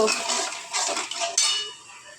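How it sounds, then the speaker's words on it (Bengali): Pan of food being stirred as poppy seeds go in while making a yogurt-based eggplant dish, with clinks and scrapes of a utensil against the pan, close and fairly quiet in short bursts. "এবার একটু নেড়ে নেব এবার এর মধ্যে দেব পোস্ত"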